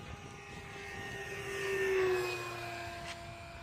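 A Red Bull Edge 540 RC airplane flies past with a steady whining electric motor drone that swells as it nears and fades away, heard alone outdoors.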